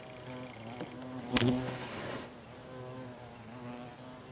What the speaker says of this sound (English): Hear 'em buzzing.